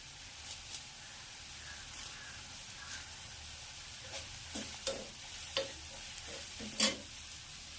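Chilli powder and curry leaves fry in hot oil for a breadfruit and prawn curry, a soft steady sizzle broken by repeated spoon stirs and scrapes, one sharper clack near the end, with no voices.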